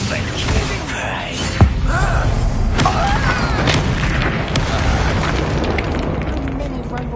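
Incendio fire spell going off in the Hogwarts Legacy video game: a sharp boom early on, followed by a dense, steady roar of combat noise with voices mixed in.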